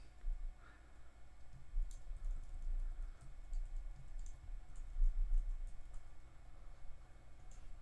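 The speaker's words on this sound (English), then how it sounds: "hold down Shift and Option, and then use my up and down arrow keys to adjust the baseline" Computer keyboard arrow keys pressed during graphic design work, adjusting text baseline; soft, scattered clicks and taps at moderate volume, alone without talk.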